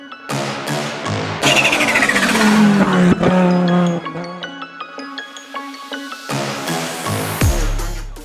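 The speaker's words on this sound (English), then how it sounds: "this is my BMW M4 Competition" A 550bhp BMW F82 M4 Competition on air ride barks and revs hard up close, with loud sweeping throttle blips, crackling pops and a sudden cut-off near the end.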